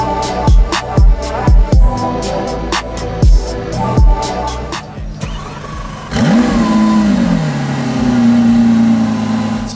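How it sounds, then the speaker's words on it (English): A Lamborghini Aventador SVJ parked nearby gives a string of loud, sharp throttle blips, then settles into a steady, rising engine drone. "here's the Lamborghini Aventador SVJ"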